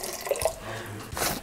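Water pours briefly into a cooking pot of soaked kidney beans for rajma: a short, steady splashing rush that lasts about a second, close and moderately loud.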